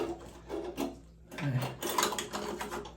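A drain fitting being screwed back into a roughly 70-year-old bathtub: close, uneven metallic scraping and ratcheting grinds in short bursts, moderately quiet, with no talk over it.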